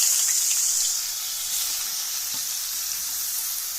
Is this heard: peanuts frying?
yes